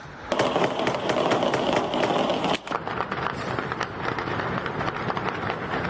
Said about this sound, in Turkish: Başkent Caracas'ta silah sesleri yükseldi.